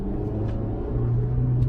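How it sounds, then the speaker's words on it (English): A Toyota Camry SE engine fitted with a Pedal Commander idles low and steady, then its rumble lifts slightly as the pedal is lightly pressed, continuous and close with no talking. "I lightly pressed it and you heard it jump to like 5 revs"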